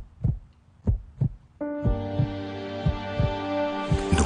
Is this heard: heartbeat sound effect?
yes